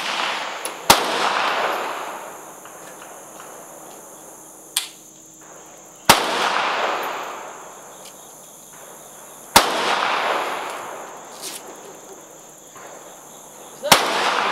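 Four sharp, loud gunshots ring out a few seconds apart, each followed by a long echoing decay, with faint clicks in the gaps between them.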